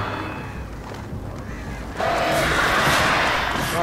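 Crows attack in Alan Wake, a harsh cawing flock that grows abruptly louder and denser halfway through, with a fluttering, screeching swell over the game's ambience.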